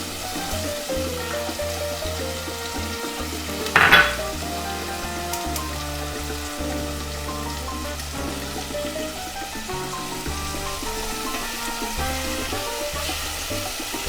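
Chicken and spices fry in a soup pot with a steady crackling sizzle, broken near the start by a short loud burst as ingredients hit the hot oil, then a continuous hiss underneath.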